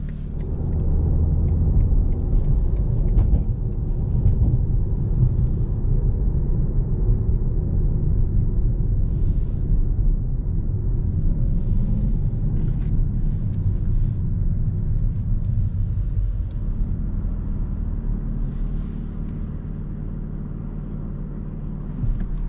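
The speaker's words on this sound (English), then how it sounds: "you guys will hear what the car is like in full standard comfort mode" A 2024 BMW M4 Competition xDrive engine idles in standard comfort mode with a deep, steady low rumble, holding fairly even throughout and easing off slightly near the end.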